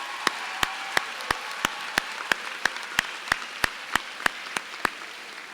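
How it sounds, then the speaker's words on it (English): Applause at a school promotion ceremony, heard as a steady crowd wash with sharp, evenly spaced claps standing out about three times a second, moderately loud and without voices. "we're going to give him another hand clap"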